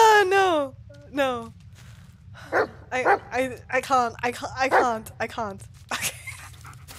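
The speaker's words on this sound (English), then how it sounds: "Stop barking, but you're a good boy." A dog in the Blair Witch horror game barks and yips in a rapid string of sharp, close calls, with a few whining notes at the start and a person speaking briefly between them.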